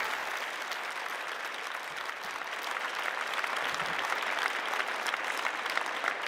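A conference crowd at the Slush 2022 founder stage applauds steadily for over six seconds as judges walk on, dense and even clapping, fairly faint, with no clear talk on top.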